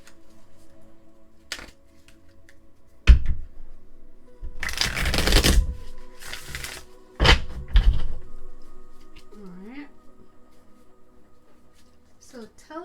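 Tarot cards are shuffled in bursts of riffling and flapping, several loud close shuffles separated by taps and thumps of the deck, with a brief voice near the end.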